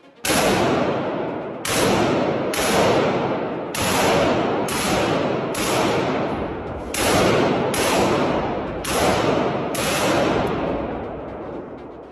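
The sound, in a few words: gunfire from soldiers shooting in a war video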